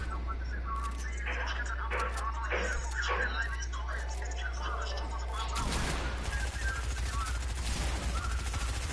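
Gunfire in a shooter video game, quick rattling bursts mostly under excited voices talking, then a sustained crackling volley near the end over a steady low hum.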